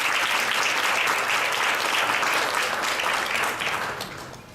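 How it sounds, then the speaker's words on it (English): A conference audience at SICT2017 gives sustained, loud applause for the Thai team, a thick even roar of clapping that holds steady before tapering off at the end. "I would suggest that we give a big applause to the Thai team."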